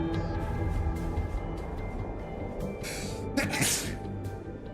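A person sneezes once, sharply and close to the microphone, over ongoing background sound from a Dead by Daylight tournament broadcast.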